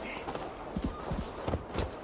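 Horse hooves gallop in the Assassin's Creed Valhalla video game, quick uneven thudding beats close by against a noisy outdoor background, with voices mixed in.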